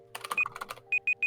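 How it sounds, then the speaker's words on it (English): Quick clicks of typing on a quiet mechanical keyboard, about a dozen soft close keystrokes in a short burst, with a few brief tonal beeps mixed in. "It's quiet varieties of mechanical keyboard."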